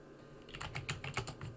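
A short flurry of computer keyboard keystrokes, quick and close, about eight distinct clicks in under two seconds, quiet and with no voice over them.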